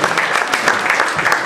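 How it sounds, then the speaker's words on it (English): A crowd at a Delaware Democratic Party jamboree claps for Chris and Andy, a brief, dense burst of applause close and loud from start to finish. "Nice round of applause for Chris and Andy."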